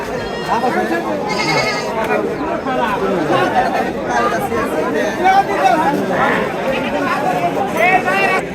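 At a busy village goat market, many goats bleat and bleat again, some near and some farther off, over the constant chatter of a dense crowd of people talking all around.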